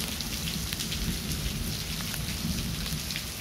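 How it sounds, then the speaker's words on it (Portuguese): Steady heavy rain hisses and patters close by in Aldeia Camaragibe, Pernambuco, Brazil, with a low rumbling undertone of thunder beneath the downpour. "Com trovoada também, viu?"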